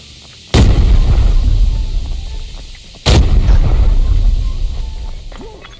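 Two loud booming blasts a few seconds apart in the game Arena Breakout, each a sharp crack followed by a long rumbling decay, grenade explosions and heavy gunfire.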